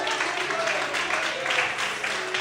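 A church congregation applauding and praising during a sermon: continuous dense clapping mixed with voices and a loud, reverberant crowd roar, steady throughout without a break.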